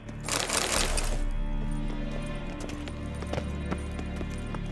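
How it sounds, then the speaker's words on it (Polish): Footsteps in The Witcher 3: Wild Hunt, a series of distinct, fairly close steps with a rhythmic, hollow clop over steady ambient game sound, after an opening burst of broadband noise. "Słyszę jakieś kroki."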